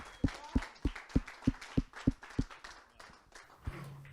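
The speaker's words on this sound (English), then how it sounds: "Let's give a round of applause for Dr. Bart." Audience clapping to welcome a speaker at a talk, about eight evenly spaced, sharp claps close by, fading into softer scattered taps before a faint low hum sets in near the end.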